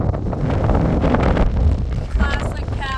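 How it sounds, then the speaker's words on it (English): Strong, steady wind roars and buffets the microphone on a mountain saddle in the Canadian Rockies during a backpacking trip, loud and continuous, with faint voices partly masked beneath it. "Pretty damn windy up here."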